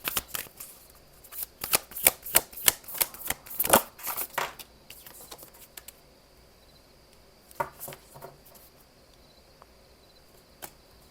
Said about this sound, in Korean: 그러면 모놀로지 카드로 조언 카드 또 뽑아볼게요